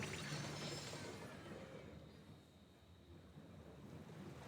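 Waves wash and roll in the video game Genshin Impact, a soft, continuous surf hiss with faint wind, quiet and alone, swelling at the start and then settling.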